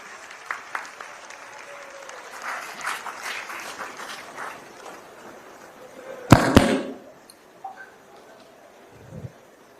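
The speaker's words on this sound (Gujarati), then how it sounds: "જોરદાર તાળીઓના ગડગડાટ સાથે" An audience claps to welcome Amit Shah at the Mahalakshmi 150 inauguration event in Mumbai, a moderate, scattered patter of applause rising to a brief loud burst, with a voice over the public-address system in the background.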